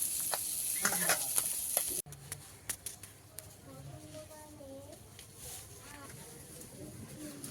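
Fish and green chilli fry in a pan on an earthen stove: soft sizzling with sharp clicks of a spatula stirring, quieter after the first two seconds, and a faint voice in the background.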